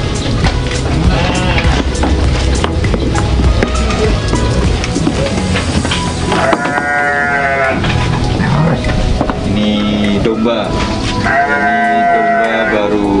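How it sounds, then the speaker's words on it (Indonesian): Young sheep bleat loudly in a farm setting, several wavering calls rising above a constant busy background of noise and voices. "Dan ini adalah domba-domba Santo Yusuf."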